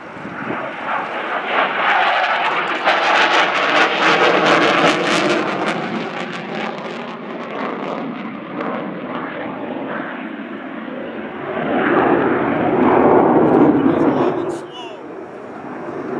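Two Polish Air Force Su-22 jets fly a display at the RIAT 2014 air show, their loud engine roar swelling, fading and surging again overhead while a commentator talks over it.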